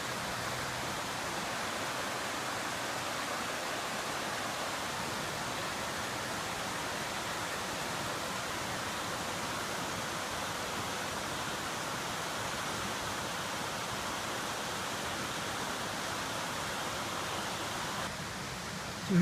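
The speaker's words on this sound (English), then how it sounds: "As the brook comes down the mountain" A mountain brook flows steadily along a hiking loop on Prospect Mountain, a continuous soft rushing of water at moderate distance with no voices, unchanging for the whole stretch.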